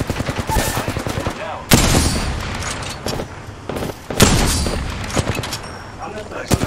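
Rapid automatic gunfire bursts in the Apex Legends battle royale game, loud and dense with repeated volleys and booming impacts, broken by short pauses.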